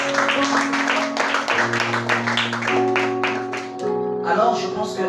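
Church congregation clapping and cheering at a Sunday school gathering, a dense sustained round of applause mixed with voices and tonal music underneath, fairly loud and close.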